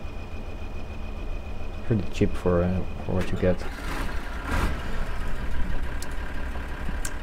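Tractor engine idling in Farming Simulator 2013, a low steady hum running beneath someone talking throughout.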